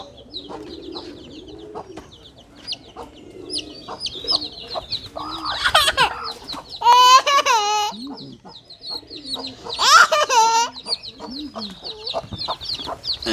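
Young chicks chirping and peeping while being given single drops of Ranikhet vaccine, with bursts of loud, close, high calls around the middle and a few faint sounds in between.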